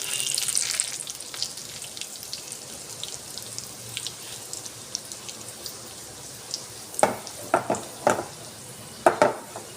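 Mustard seeds, cumin and three dried red chillies sizzle in hot oil for an eggplant roti pachadi, a steady fine hiss broken near the end by several sharp, close pops and crackles.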